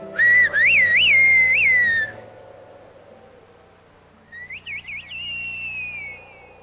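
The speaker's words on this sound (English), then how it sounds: "If that man hadn't whistled" A man whistles a short, bright, wavering phrase that slides up and down, then a quieter second burst of quick trills follows after a pause, clear and close with low background hum.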